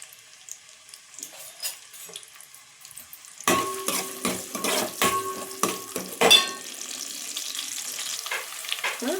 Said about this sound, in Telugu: ఉల్లిగడ్డలు మంచిగా వేగాలి